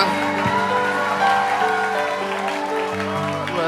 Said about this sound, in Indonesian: berikan tepuk tangan buat Ardis